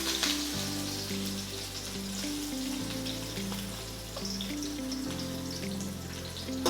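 Sliced onion sizzling and frying in a kadai with cloves and cardamom for salna, a steady close crackle with faint stirring, no voices.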